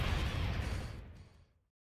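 The Milky Cannon attack in a Dragon Ball Sparking video game fires as a single loud, rumbling blast that decays over about a second and a half into silence.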